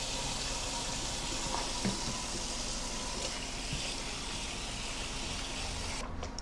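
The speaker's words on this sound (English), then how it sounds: "go ahead and just give it a good little cold water rinse" Cold tap water runs steadily over raw fish in a kitchen sink, a continuous, even hiss and splash with a small clunk partway through.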